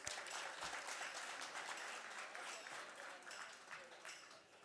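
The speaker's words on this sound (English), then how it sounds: "Can we give big hands of applause?" Audience applause at an International Women's Day gathering, a steady wash of many hands clapping at moderate distance, fairly quiet and sustained throughout.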